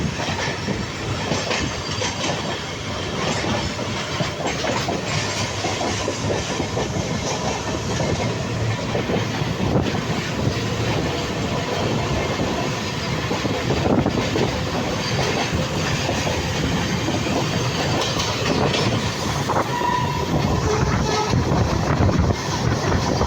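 Donyi Polo Express (15818) running on rails, a loud continuous rumble and rattle of train wheels and carriages with rhythmic clicking throughout, heard from on board with no talk.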